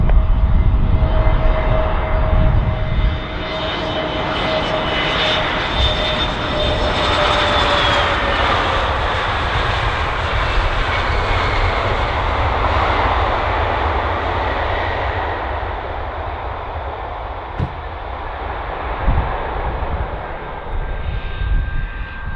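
An airliner lands at Bristol Airport, its loud engine roar close and sustained, with a whining tone sliding downward early on and a broad rushing rumble that slowly eases.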